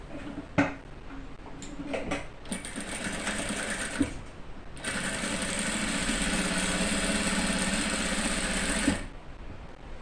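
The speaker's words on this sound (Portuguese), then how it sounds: "E vamos passar uma costura com pé de máquina aqui." Sewing machine fitted with a presser foot stitching a seam on a dish towel with eyelet lace trim, starting with a few short bursts and clicks, then running in a steady, close, continuous whir for several seconds before stopping.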